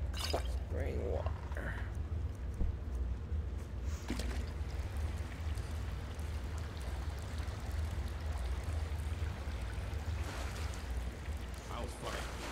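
Spring water is drunk in the video game Skyrim, giving soft liquid pouring and sloshing with a few drip-like splashes, faint over a low, steady background rumble.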